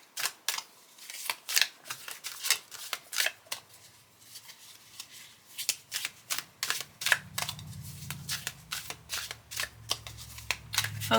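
A Halloween Tarot deck by Kipling West is shuffled by hand in quick crisp riffles and snaps, close and clear, with brief pauses between bursts.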